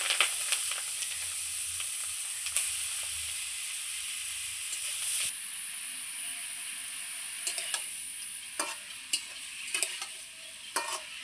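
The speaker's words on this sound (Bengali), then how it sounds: "ফোড়নে দিচ্ছি কয়েকটা কাঁচা লঙ্কা ছেঁড়া।" Torn green chillies hit hot oil for a tempering, giving a loud steady sizzle that drops back after a few seconds, followed by scattered sharp clinks of a utensil against the pan.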